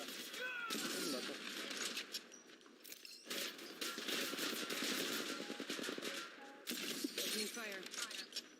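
Rapid bursts of gunfire in the mobile shooter game Apex Legends Mobile crackle loudly and almost without pause, with sharp impacts and clattering breaks, while players talk over the shooting.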